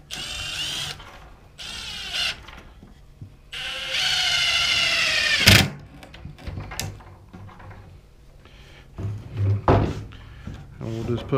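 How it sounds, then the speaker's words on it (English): A power drill driving 3-inch construction screws into old ripped-down 2x4 lumber, several whirring bursts of a few seconds each with a sharp knock in between, while people talk throughout. "We're going to use these 3-inch construction screws."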